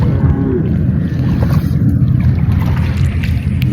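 A boat moves along a flooded canal outdoors, giving a continuous loud low rumble of engine and water with wind buffeting the microphone, no talk.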